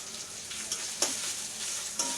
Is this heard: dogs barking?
no